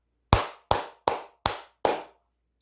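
Five sharp, evenly spaced hand claps ring out alone in a quiet room, each loud and crisp with a short decay.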